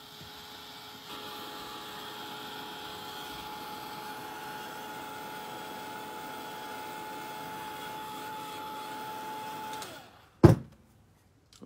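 An electric heat tool blows hot air steadily to dry paint on an art journal page, a constant close whirring hum that runs for about ten seconds, then cuts off with a brief knock and near-silence.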